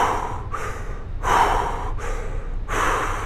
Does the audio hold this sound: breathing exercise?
yes